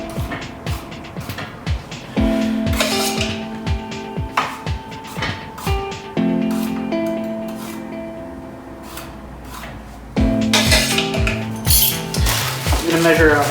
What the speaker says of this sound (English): Give it a good chop.